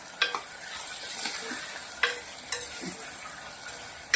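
A spoon scrapes and stirs green cowpea and potato curry with turmeric and salt in a sizzling frying pan, with intermittent clinks against the metal over a steady hiss of frying.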